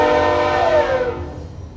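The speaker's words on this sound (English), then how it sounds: "Sorry about the train." A passing train sounds a long horn blast that bends lower in pitch and then fades away, loud at first and tailing off quickly, with no speech.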